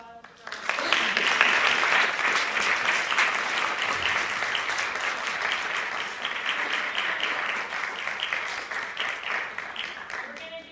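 Another round of audience clapping at a TCU FACES event, rising quickly into a dense, even roar of applause that holds steady for around ten seconds before tapering slightly at the end.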